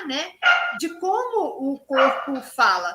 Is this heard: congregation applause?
no